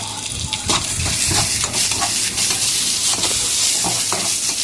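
Tomato and garlic sauté in a hot pan while a spoon stirs them repeatedly, giving a loud, close sizzle broken by rhythmic scraping strokes and wet squelching.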